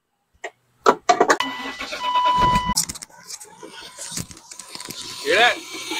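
A BMW E36 is started after a few key clicks: the engine cranks and catches, then runs roughly and unevenly up close, with a person speaking briefly over it.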